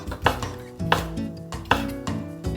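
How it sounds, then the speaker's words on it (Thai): A knife slices sausage on a cutting board while a Thai rice dish with egg, cheese and sausage is being prepared. Four sharp, close chops land at an unhurried, fairly even pace, with no one speaking. "เราค่อยๆหั่นไส้กรอกนะครับ"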